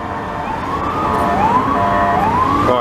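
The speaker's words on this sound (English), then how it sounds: "A lot of siren, a lot of quick lane changes." A fire truck's wailing emergency siren sweeps up and down repeatedly over steady road noise, fairly loud and close, rising and falling in long glides.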